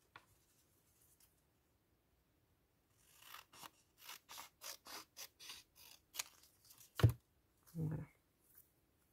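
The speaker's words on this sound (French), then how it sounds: "je vais en couper un petit peu" Scissors snip through paper for a junk journal craft, a quick run of about a dozen close, crisp cuts in a quiet room, followed by a couple of louder handling thumps.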